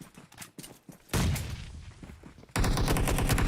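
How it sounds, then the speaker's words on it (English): Gunfire in the mobile battle-royale game PUBG Mobile: rapid bursts of automatic shots, loud and close, with a sparse opening, a dense stretch of fire, then another sustained volley at the end. "Little shots on the crate to add some insult to injury there"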